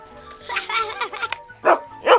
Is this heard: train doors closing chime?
no